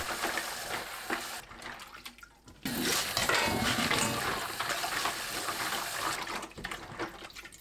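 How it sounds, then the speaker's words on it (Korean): Dried pumpkin strips being washed by hand in water, with close splashing, sloshing and running liquid that pauses briefly, then resumes continuously. "호박꼬지를 두세 번 씻어주세요."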